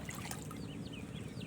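Water poured out for ducks at a small backyard duck farm trickles and splashes steadily, close by, with faint high chirps or peeps above it.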